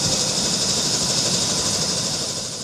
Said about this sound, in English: Built in Canada by Bell Textron, this helicopter has 2 turboshaft engines